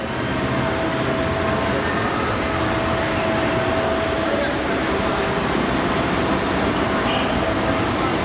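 A train runs between theme park areas at Universal Orlando, a continuous rumbling roar of rolling rail cars that holds steady and loud throughout, with a faint squeal and murmur of background activity.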